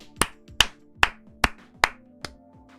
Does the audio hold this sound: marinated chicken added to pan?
no